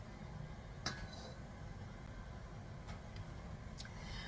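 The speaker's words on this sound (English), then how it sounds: "Okay, so you just mix it all together." Melted chocolate being stirred into a low-carb chocolate silk pie filling in a bowl, heard as soft, continuous mixing with a few faint clinks of utensil against the bowl.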